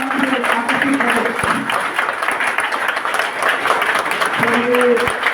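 Audience applause at a motivational speech by a history assistant professor, a steady dense wash of clapping filling the hall, with voices faintly under it.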